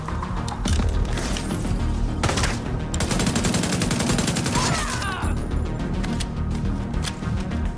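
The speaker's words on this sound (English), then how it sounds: "I hear gunfire." Gunfire in the video game The Division 2 set in New York, with dense bursts of automatic fire and scattered single shots crackling loudly and continuously across the scene.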